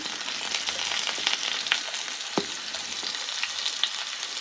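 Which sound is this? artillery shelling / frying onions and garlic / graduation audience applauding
frying onions and garlic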